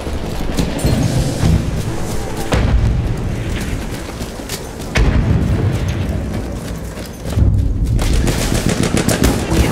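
Machine guns and rifles in a Battlefield 1 battle fire in loud, dense bursts, with booming explosions mixed in and continuous close-range gunfire that barely lets up throughout.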